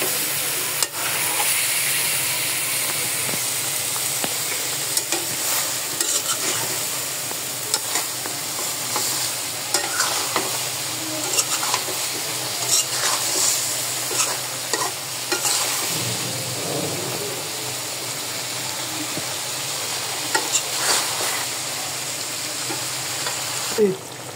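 Curry with potato, ginger and dundul frying in a pan, a constant close sizzle broken by scraping stirs and clacks throughout.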